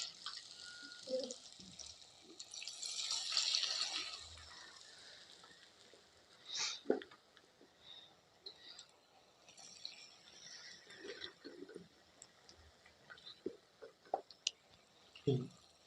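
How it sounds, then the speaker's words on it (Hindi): Potato chips fry in hot oil in a home kitchen, giving a faint, soft hiss and scattered small crackles, with a few light clinks as the batch is stirred. "ये देखिए फ्रेंड्स, अब हमारे जो चिप्स है अच्छे से फ्राई हो रहे हैं"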